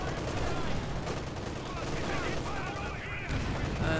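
Howitzer artillery fire in a heavy-armour match of a Company of Heroes balance mod, heard amid a constant, loud battlefield din of mixed gunfire and explosions lasting throughout.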